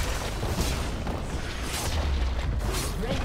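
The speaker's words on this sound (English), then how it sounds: "Red team's turret has been destroyed." Booming in-game explosion as a League of Legends turret is destroyed, a steady, dense low rumble with bursts over a busy match backdrop, no talk.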